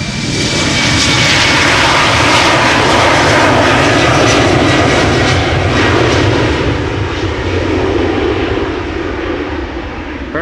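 An Austrian Airlines Embraer 195 long-range jet departing Amsterdam Schiphol Airport for Vienna, a loud, sustained engine roar heard up close that swells and then slowly fades.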